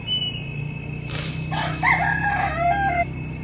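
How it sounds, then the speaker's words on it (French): Rooster crowing among chickens on a terrace, one full cock-a-doodle-doo call rising and falling, close and clear over a low steady hum. "Il y a 50 poules sur la terrasse"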